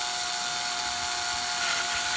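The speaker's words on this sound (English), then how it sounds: "I'm using a 1/8 inch drill bit. Carefully in the center, and just very slowly drilled it." A drill with a 1/8 inch bit bores slowly into the case of a DB Power T20 projector, giving a steady, loud, high-pitched whine that holds unbroken throughout.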